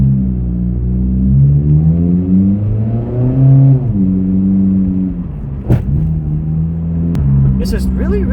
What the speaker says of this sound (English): that exhaust now sounds pretty decent